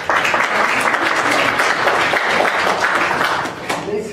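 Loud, dense applause from a lecture audience, a steady wash of clapping that holds for about four seconds before tapering slightly.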